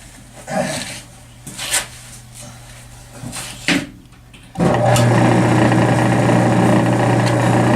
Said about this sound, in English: going to grind it up over here for a second and see if I can clean it up.